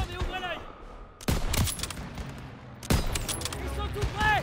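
Gunfire in a Call of Duty WW2 campaign battle: sharp bursts of shots at about a second and a quarter and again near three seconds, amid continuous battle din with voices speaking over it.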